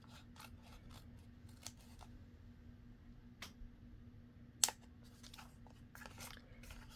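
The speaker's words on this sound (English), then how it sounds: "I'm just going to trim this corner off a little bit" Scissors trimming the corner off a ribbon during ribbon crafting: a few faint, sparse snips against a quiet background, with one sharper close cut.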